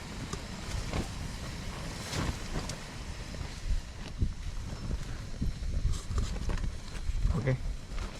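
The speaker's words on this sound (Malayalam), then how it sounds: "നല്ല കാറ്റുണ്ട് കേട്ടോ" Wind buffets the microphone in low rumbling gusts that rise and fall continuously, with faint talk mixed in.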